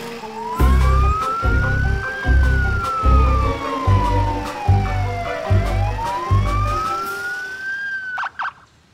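Police car siren in a kids' cartoon, a loud wailing tone sliding slowly up and down over rhythmic pulsing engine-like thumps, ending abruptly with a brief burst of higher beeps.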